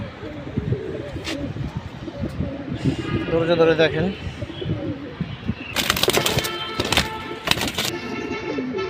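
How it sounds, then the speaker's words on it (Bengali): A Jabra pigeon, a deep blue punky bird, gives low rolling coos and then brief bursts of wing fluttering. Someone talks over it throughout. "দেখতেই পারতেছেন কবুতরটা কেমন করতেছে একদম ছটফট করতেছে"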